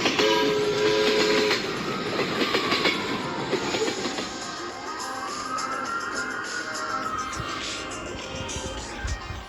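A passing train with clattering wheels and a sustained rumble, its horn sounding steady tones early on, followed by rising and falling tonal sweeps as it moves by at moderate distance.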